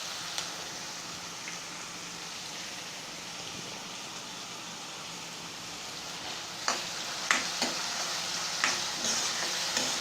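Chopped onions with salt sauté in a pan for a chicken vadakal, giving a steady close sizzle; a few sharp scraping stirs break through near the end.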